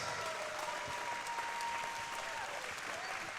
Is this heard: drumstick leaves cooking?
no